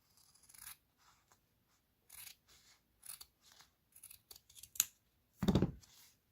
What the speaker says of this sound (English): Okay, so let's cut our ends.